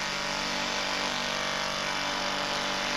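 Two mechanical percussion hammers strike together in phase, giving a loud, steady, dense buzzing rattle that runs without break.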